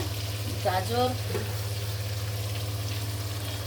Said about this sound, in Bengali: তেজপাতা ফোড়নটা দিলাম